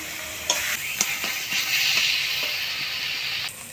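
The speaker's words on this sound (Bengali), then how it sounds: "এবার সিদ্ধ করে রাখা ছোলা আলু দিয়ে দিব।" Boiled chickpeas and potatoes hitting hot frying spices in a pan for a chickpea curry, giving a steady loud sizzle with several clinks and stirring scrapes.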